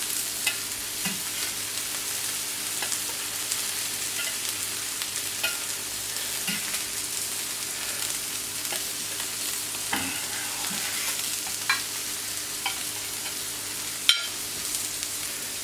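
A rib of beef with a spice crust sears in a pan, giving a steady, even sizzle with faint occasional pops and crackles throughout, and one sharper clack near the end.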